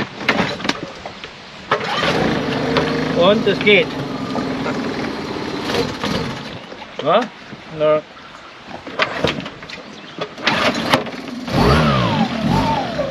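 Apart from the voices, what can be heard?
Suzuki outboard motor starting and running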